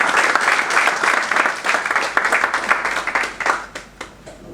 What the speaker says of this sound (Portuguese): por quem peço uma salva de palmas em jeito de agradecimento e reconhecimento